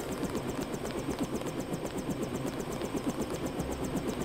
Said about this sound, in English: We can hear Jock's helicopter